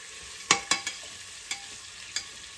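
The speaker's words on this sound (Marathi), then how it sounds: "आपला कांदा परततोय" Onions being sautéed in a pan for a one-pot pressure-cooker biryani, with a few sharp scrapes of stirring over a soft, steady sizzle; no talking.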